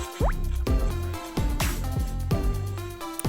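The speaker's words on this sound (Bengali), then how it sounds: "দেখুন আমি এটাকে দুধের মধ্যে দিয়ে দিচ্ছি দিয়ে ভালো করে মিক্সড করে নিলাম" Ingredients drop into milk for Bengali payesh and are stirred in, giving several distinct plops and liquid splashes at irregular intervals, close and clear, with a faint hum beneath.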